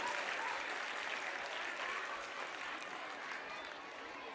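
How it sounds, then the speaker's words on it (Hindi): Sustained, dense applause fills a school annual gathering at Safa Urdu Primary School, a steady wash of many hands clapping that eases slightly toward the end. "तलबा के इस्तकबाल के लिए जोरदार तालियां बजाइए।"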